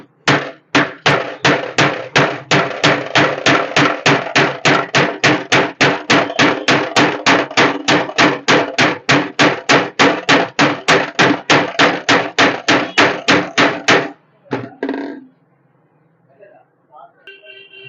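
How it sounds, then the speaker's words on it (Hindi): A hammer drives a ceiling fan shaft out through a pipe during a bush and shaft replacement, striking in a fast, even series of dozens of loud, close metallic blows before stopping, followed by a few faint knocks. "फिर आप इसके ऊपर से ऐसे हथौड़ी से प्रेस करिए, निकल जाएगा"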